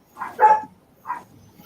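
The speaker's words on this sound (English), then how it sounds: "Oh, we got active puppy dogs. Yeah. Yeah, they're going crazy in there." Excited puppies bark in a few sharp, fairly loud yips and woofs from an enclosed space nearby, with short pauses between the outbursts.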